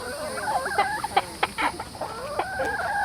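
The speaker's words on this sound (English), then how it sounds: "Yeah, hi chickens." Chickens at a petting zoo on a family farm in Groveland, Florida cluck and squawk in short, quiet, irregular bursts nearby, with no voices during the calls.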